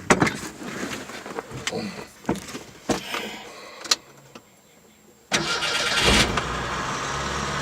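An old truck engine cranks in several uneven bursts, then catches and settles into a loud, steady idle heard up close.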